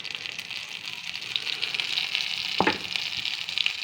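Fritters of fish and bottle-gourd leaves frying in oil give a steady, close hiss of sizzling that runs unbroken, with a brief louder bubbling burst partway through and no talk.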